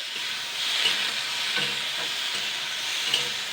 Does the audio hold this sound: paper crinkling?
no